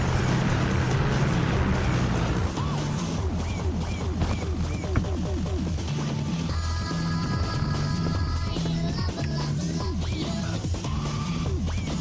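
Piston engine turning over on the starter with its fuel cut off, a steady loud churning whir with a fast rhythmic pulse that continues unbroken throughout.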